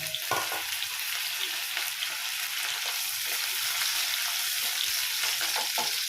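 Chopped tomato sizzles and fries steadily in a pan over medium heat, with ginger paste, during a vegetarian ridge gourd dish; the broad, constant crackle is close and fairly loud, with occasional stirring clicks and no talk.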